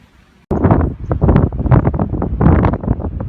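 Strong gusting wind buffets the microphone outdoors in a rural New South Wales town, a loud rumbling roar that starts abruptly after a brief quiet moment and keeps pulsing.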